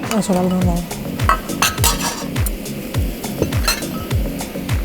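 An egg being beaten with a whisk in a bowl for a sauce, rapid rhythmic clinking strokes against the bowl sides at a steady pace, with people talking over the whisking.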